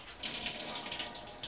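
Dirty water runs steadily from a tap inside a run-down apartment, a continuous close splashing hiss with no talking.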